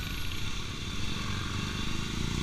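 Motorcycle in a video game escort mission, a steady droning engine note held at constant revs, loud and close throughout with no voices.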